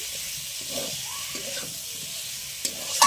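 Onion paste frying in a pan for a home-style pond crab curry, a steady broadband sizzle with occasional stirring scrapes and a sharper clatter near the end.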